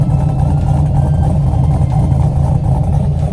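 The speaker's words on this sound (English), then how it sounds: "The car's just been idling great. She sounds amazing." A car engine idles with a steady, low rumbling drone, close and loud, unbroken from start to finish.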